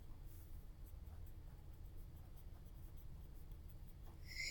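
Pen scratching on paper while equations are written down, a faint continuous rubbing sound with soft strokes, close but quiet and without talk.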